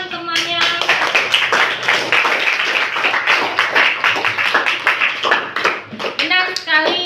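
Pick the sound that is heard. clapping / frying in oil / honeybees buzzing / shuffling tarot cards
clapping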